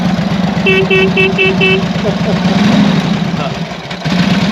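A classic motorcycle's horn gives five quick bright toots in a row over an idling engine, close up and loud, with the engine running on alone afterward.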